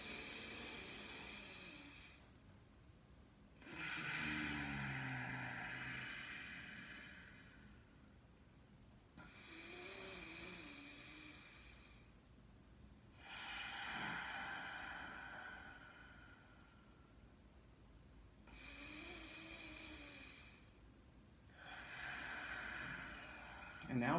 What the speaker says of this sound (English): practice Ujjayi breath, which is a firm rhythmic breath against the back of your throat with your mouth closed, exhaling through your nose